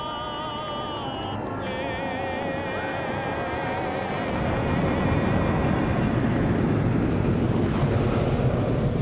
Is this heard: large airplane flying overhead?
yes